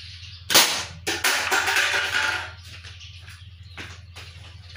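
A slingshot fires a 9.5 mm ball through a Coca-Cola can: one sharp snap and impact, then a rattling, scraping tail, with a couple of fainter knocks afterward.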